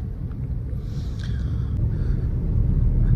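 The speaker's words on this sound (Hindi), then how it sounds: "अब ये थर्ड गियर पे लगा के मैंने क्लच छोड़ दिया।" Low, droning rumble of a 2012 Suzuki Swift VDi diesel pulling away in third gear, heard from inside the cabin as a steady engine hum that slowly grows louder under faint road and wind noise.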